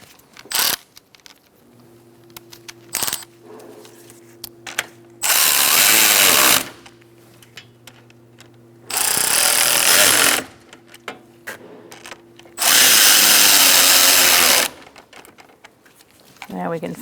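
A power tool tightening bolts on the coolant reservoir of a 2002–2006 Honda CR-V, three loud sustained bursts of whirring several seconds each, separated by quieter clinks and a low hum, close by.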